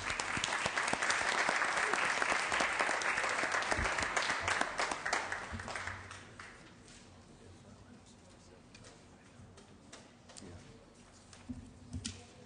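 Applause in the Senate chamber welcoming guests, a steady burst of clapping from the assembled members that fades after about six seconds into quiet room noise with scattered shuffles and a few late claps.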